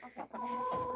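A rooster gives a short, close series of clucking calls, clear and fairly loud against a quiet background.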